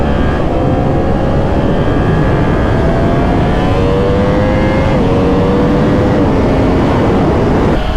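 A car engine revs in traffic, loud and close, with rising and falling engine tones sliding over a dense rumble of road noise for the whole stretch, no talking.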